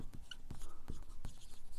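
A pen writing on paper while working a class 7 maths exercise: a rapid series of soft scratchy strokes and light taps, close and quiet, with no speech.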